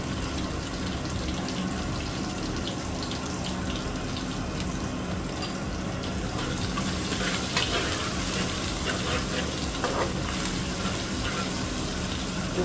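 Chopped garlic and ginger fry in oil in a pan, giving a steady, fairly quiet sizzle with occasional stirring scrapes and clinks.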